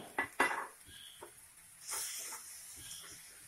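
Chicken pieces in a hot pan for restaurant-style chicken angara, with the water used to rinse the spice bowl poured in: a couple of sharp clatters, then a sudden hissing sizzle that swells and keeps steaming, close by.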